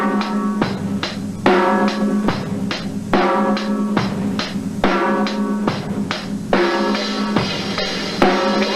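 A heavy hard rock drum groove with a driving beat of repeated, evenly spaced hits and ringing cymbal wash, loud and close with no talking.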